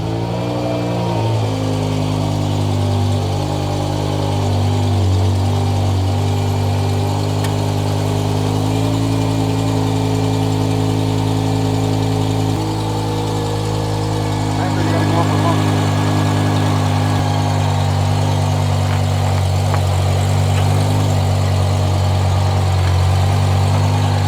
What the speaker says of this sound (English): Gonna turn the car on now